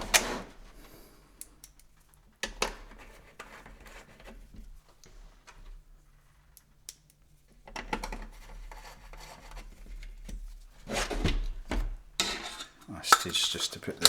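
Metallic clinks, scrapes and screwdriver taps while countersunk screws fix a rear blanking panel on an old Cirklon unit, in scattered bursts separated by quiet gaps, close up.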